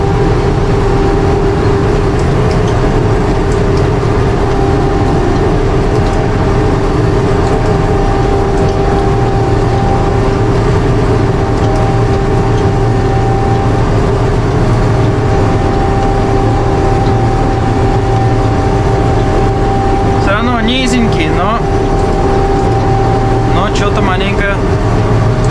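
Combine harvester setting off to harvest barley, a loud continuous engine drone with steady tonal hum, filling the whole stretch with brief knocking rattles near the end; a voice speaks over it.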